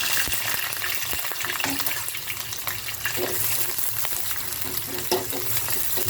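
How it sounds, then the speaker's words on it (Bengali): Chopped onions and chili slices fry in hot oil for a prawn and Malabar spinach dish, giving a steady close sizzle with some crackle throughout. "আমি এর ভিতরে পেঁয়াজের কুচি এবং মরিচের ফালি দিয়ে দিলাম।"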